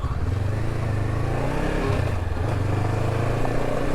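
A Honda CB500X motorcycle rides along a road over fresh gravel, its engine giving a steady mid-pitched drone with a brief dip in revs, mixed with constant wind rush.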